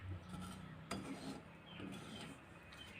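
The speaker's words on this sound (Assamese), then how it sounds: "চুজিখিনি মই এতিয়া ভাজি ল'ম" Ground semolina dry-roasted in a wok for coconut laddu, giving a steady gritty scraping and rasping as a utensil stirs it, with one sharper knock near the start.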